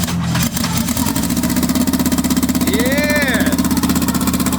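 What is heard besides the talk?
Turbo GSR B-series engine first start in EK Civic hatch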